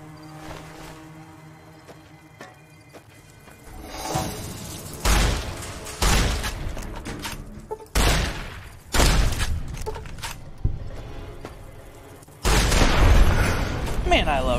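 Shotgun blasts in Fallout New Vegas: about six loud, separate booms, each with a short tail, spaced a second or two apart after a quieter start, with talk in between.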